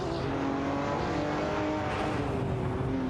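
Simulated race cars from an AI racing game, engines droning steadily in a continuous high-pitched whine throughout, sustained and fairly loud with no talking.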